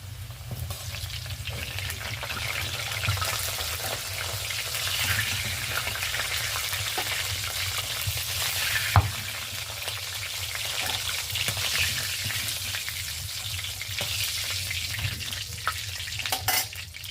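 Potatoes frying in hot oil in a pan, a steady, loud sizzle with crackling bubbles that runs unbroken throughout, with an occasional clink of a utensil and no talk.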